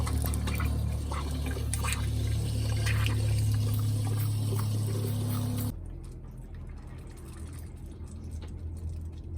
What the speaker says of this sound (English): Now that it's pressurized, I'm going to open the faucets.